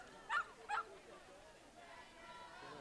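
A Cocker Spaniel gives two quick sharp barks at a dog agility event, faint and distant, followed by crowd murmur and a voice talking.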